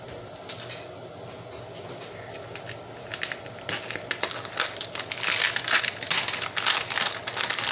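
Plastic packaging around a ham steak is cut and torn open at a kitchen stove, a crisp crinkling and crunching that builds from sparse ticks to dense, close rustling toward the end.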